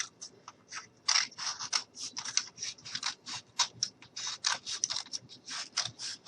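Scissors snip through a strip of paper close by for a pencil holder craft, a quick series of soft crisp cuts and rustles in an irregular rhythm, with no talking.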